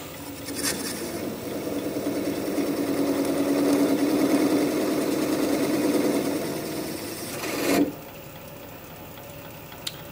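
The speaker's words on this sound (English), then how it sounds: "So I'll get that sanded up." A turned wooden piece spins on a lathe while being sanded, giving a steady close whirring drone with gritty friction that swells and then stops abruptly near the end, leaving quiet.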